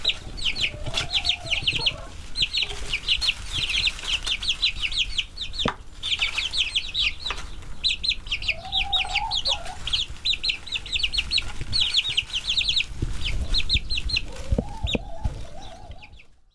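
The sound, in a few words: Rhode Island Red hens clucking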